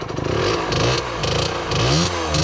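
A 50cc motorcycle engine revs hard in a series of rattly, buzzing bursts close by on a grassy field, the throttle blipping up and down repeatedly.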